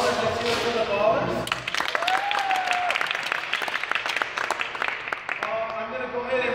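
Crowd applause and cheering for the Ballers during player introductions at a championship basketball game, a steady, loud roar of clapping with whistles and shouts that fades slightly near the end, an announcer's voice heard over it.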